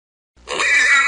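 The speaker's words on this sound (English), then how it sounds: "Pig." A single pig grunt from an animal-sounds lesson for children, starting after a moment of silence and lasting to the end, close and fairly loud.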